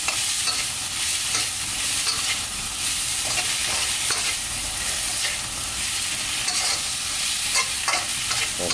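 Shrimp stir-fried with chili and salt in a hot pan, a loud, continuous sizzle and hiss with repeated scraping and tossing of a spatula, close and steady throughout.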